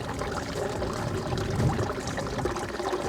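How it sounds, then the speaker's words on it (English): Water runs through a recirculating sluice used for gold prospecting, flow set by a ball valve, giving a steady close splashing rush with no break. "we can dial it back up if we want more water running through it."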